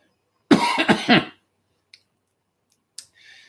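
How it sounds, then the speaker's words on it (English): Three harsh coughs come in quick succession from a person indoors, close and loud, followed by a few faint clicks and a soft hiss. "think I'm the one that's coughing."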